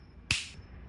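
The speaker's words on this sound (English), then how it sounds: "I'm gonna snap my fingers and do some editing magic" One crisp finger snap, close and sharp, rings out alone against a quiet background and fades quickly.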